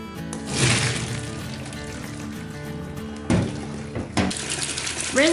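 Soba noodles being rinsed under a running kitchen tap, a steady splashing water stream into the sink that surges louder near the end, with no talk.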